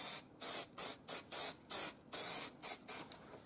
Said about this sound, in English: just some matte black spray paint, and then just dust over that